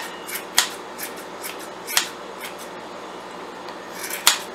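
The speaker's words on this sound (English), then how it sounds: "I just start trimming any loose strands, and then just try to trim until everything is about the same size" Scissors trim loose yarn strands on a large pom pom, giving a few sharp, close snips spaced irregularly with softer cutting sounds between them in a quiet room.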